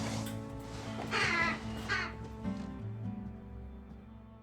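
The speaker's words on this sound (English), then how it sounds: "Since when does she have crows?" Crows caw repeatedly in a scene from a Sons of Anarchy episode, a few harsh calls clustered together over steady background music and ambience.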